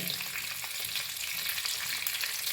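Village crabs fry in oil on a flat iron tawa, a dense, continuous close-up sizzle and spatter with occasional light stirring scrapes, no talking.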